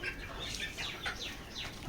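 Chickens, kept for treatment of lethargy and watery eyes, cluck faintly in a few short, scattered calls against a soft background hum.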